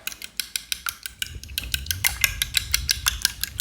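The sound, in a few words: whisking two eggs in a bowl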